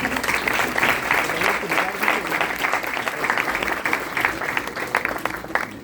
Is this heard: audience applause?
yes